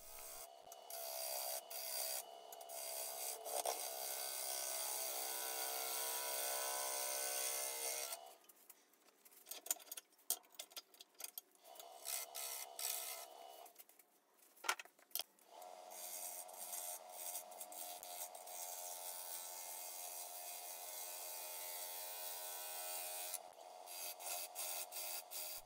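Half-inch bowl gouge with a 40-40 grind cutting dry ambrosia maple on a lathe, roughing the bottom and rounding the cylinder: a steady, close scraping rasp that pauses briefly and then resumes with choppier, intermittent cuts.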